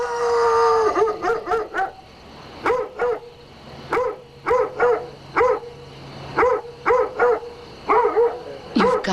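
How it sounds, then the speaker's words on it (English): A dog barks and howls in repeated bursts of two to four yelps with short pauses between them, loud and close, alone without talk. "You've got to do something about that dog."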